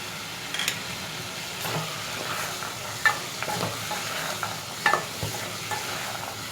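Black chana frying with cumin, turmeric, red chili powder and salt in a pan gives a soft, steady sizzle, broken by scattered scraping and stirring clicks close by.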